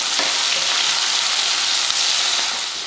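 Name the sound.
shallots and garlic sizzling in hot oil in a kadai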